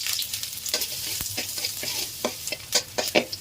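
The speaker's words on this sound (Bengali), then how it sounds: "তেল গরম হয়ে গেছে, এখন আমি প্রথমে রসুন কুচিগুলো দিলাম।" Chopped garlic sizzles in hot oil in a pan, with a steady frying hiss and quick, irregular scrapes of a stirring utensil, close and fairly loud, with no talking.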